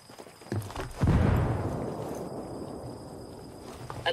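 A frag grenade explodes in a PvP video game with a single heavy boom that decays into a long rumbling tail, followed by faint scattered clicks.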